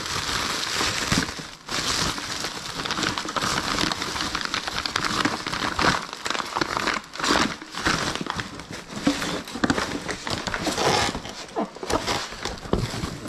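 Plastic bags in a storage unit crinkle and rustle continuously as they are handled, loud and close, with irregular crackling bursts throughout.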